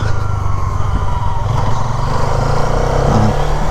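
A motorcycle rides along an embankment road, its engine droning steadily and loudly close by with a constant rumble throughout.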